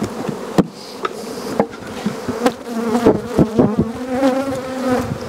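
Honey bees buzz around an opened hive being worked into a honey super, a close, wavering drone with sharp knocks and taps from handling the wooden hive box.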